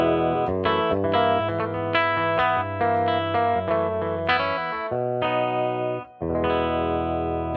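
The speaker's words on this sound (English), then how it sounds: "This is a really cool vintage 60s blackface guitar cabinet." Electric guitar played through a vintage 1960s blackface cabinet, a clean, continuous run of chords and notes with light chorus-like shimmer, close and steady, with one brief drop near the end and no talking.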